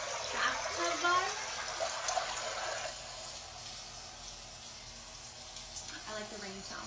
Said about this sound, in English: I like the rain sound.